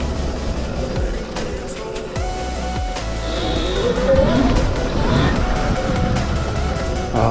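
A Razor MX electric dirt bike fitted with an upgraded motor whines along a trail ride, its pitch rising and falling with throttle, with rattling and bumps from the rough ground.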